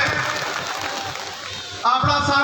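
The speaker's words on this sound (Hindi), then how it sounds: "एक बार जोरदार तालियां के साथ हम दोनों को जोरदार स्वागत।" Crowd at a BJP Parivartan Yatra rally in Bidasar applauding loudly to welcome the chief guests, a steady dense wash of clapping and cheering that swells sharply near the end, with a voice over a PA heard faintly underneath.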